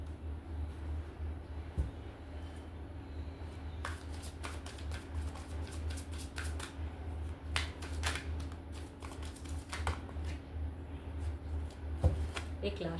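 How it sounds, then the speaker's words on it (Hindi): Tarot cards being shuffled by hand indoors: a quiet stretch, then from about four seconds a run of crisp, irregular snapping clicks and riffles over a steady low hum. "एक लास्ट शफल लेते हैं।"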